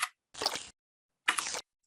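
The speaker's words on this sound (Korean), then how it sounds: "아까 사과 씹을 때 쩝쩝하는 소리 있잖아요" Two short crisp crunching bites, close and dry, separated by a pause, like teeth biting into a firm apple.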